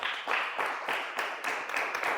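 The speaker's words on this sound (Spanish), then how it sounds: "Un fuerte aplauso al Señor" A church congregation applauds in a steady, pulsing rhythm, a dense wash of hand claps rising and falling in even beats at moderate distance.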